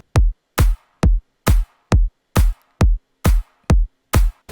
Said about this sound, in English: the drums that I use are called mid-tempo